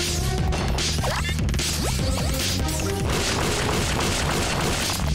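Bomb explosions and crashing effects in the video game Iconoclasts, booming impacts layered over loud continuous game music and effects throughout.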